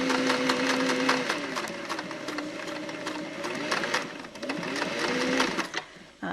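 A sewing machine stitches over a seam of elastic on a cloth diaper, a close, continuous rapid mechanical whir and clatter with slight pauses and speed changes, then stopping at the end.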